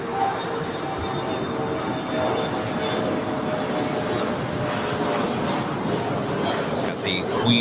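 A Boeing 747 at LAX readies for departure on runway 25 right, its engines giving a steady, broad roar from moderate distance that holds evenly throughout with no clear peak.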